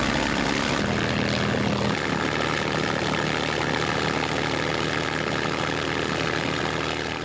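A Spitfire's 1,200-horsepower piston engine held at maximum power during a chocked ground run-up, a loud, steady, unbroken propeller roar close by that fills the whole stretch without a pause and with no voices over it.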